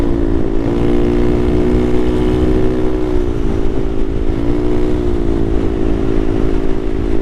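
A Honda Navi motorcycle rides through Portland city traffic, its engine producing a steady, loud drone with a continuous low hum that shifts slightly in pitch throughout.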